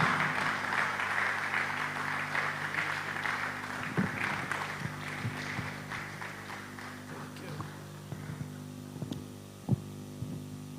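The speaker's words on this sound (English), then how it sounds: "with a resounding round of applause, let's welcome Mr. Conrad Kakraba." An audience at the Scale Up Summit 2022 conference gives a round of applause to welcome a speaker, with steady clapping that thins out and fades, leaving a low hum and a few scattered claps.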